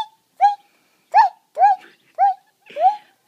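Birds call close by in five clear, evenly spaced squawking notes, each a short rising-and-falling cry with silence between them in a quiet setting.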